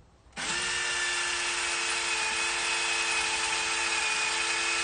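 A power drill starts up abruptly and runs at a steady, high-pitched whine, loud and close, without pause.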